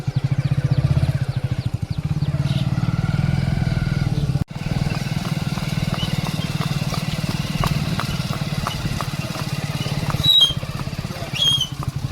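A motorcycle carrying three riders thrums continuously, a close, low pulsing drone with a brief dropout midway and faint rattles and squeaks on top.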